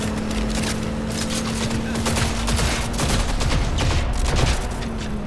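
Rapid, sustained gunfire from the Cyberpunk 2077 video game, dense bursts of shots crackling continuously at close range over a steady hum, with no pauses across the stretch.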